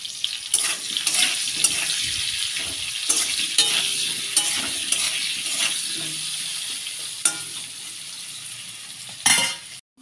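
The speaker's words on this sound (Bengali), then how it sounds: "তেলে আমি একটু তেল দিয়ে দেবো, দিয়ে আমি আলুগুলো ভেজে নেব।" Potatoes frying in oil with turmeric and salt, making a loud, continuous close sizzle. Repeated stirring scrapes punctuate it, and the sound cuts off abruptly near the end.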